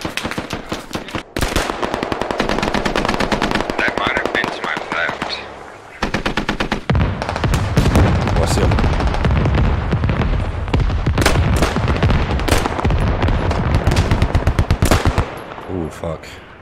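Vehicle-mounted machine gun fire in the Squad video game, with rapid, dense bursts hammering almost nonstop for the whole stretch and only a few short breaks, loud and close, with other game sounds mixed in.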